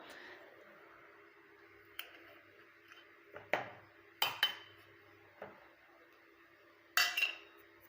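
Homemade hair dye ingredients are dropped into a mixer jar, making several sharp clinks and taps of solids on metal spread across a quiet room, some light and some louder.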